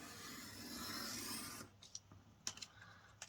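A paper trimmer slides along a strip of paper for a soft, steady scraping rasp, then stops and gives way to a few sharp clicks and taps in quiet.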